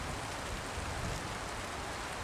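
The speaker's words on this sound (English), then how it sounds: "it's starting to rain quite hard at this point in time" Hard rain pours down on a remote island in the Canadian wilderness, a steady, dense hiss of drops that holds even and unbroken throughout, with no voices.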